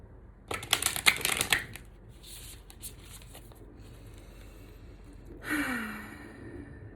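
Brand new tarot cards being shuffled, a quick flurry of crisp riffling clicks up close followed by a few softer taps and a breathy exhale.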